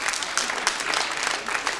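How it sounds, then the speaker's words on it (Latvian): Audience applause at a radio concert in a Latvian Radio studio: dense, steady clapping from a room full of people, close and continuous for a couple of seconds with no talk. "Aplausi!"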